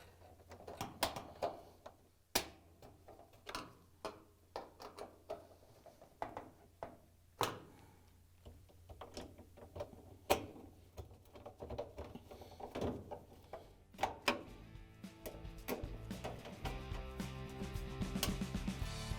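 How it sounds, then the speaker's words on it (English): Short, irregular clicks and thunks of a Phillips screwdriver driving screws into a GE dryer door hinge, quiet and close, ending in a steadier mechanical whir. "we can use the Phillips screwdriver to put the screws in."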